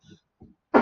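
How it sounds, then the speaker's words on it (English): A cough muffled into a cushion: two soft, brief throat sounds, then a louder, dampened cough burst right at the end, close by and with no talking. "I'm going to try and cough into a cushion because otherwise it's going to be really loud."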